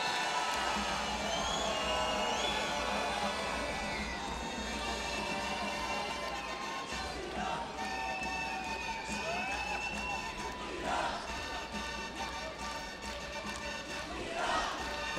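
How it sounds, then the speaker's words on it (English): At a freestyle wrestling bout between Ghasemi and Kushkhov, fans stand cheering and chanting while blowing noisemakers and waving flags. The result is a dense, continuous arena roar with shrill horn tones rising above it. "The fans and the crowd are on their feet, waving their flags, blowing their noisemakers, dancing, chanting, singing"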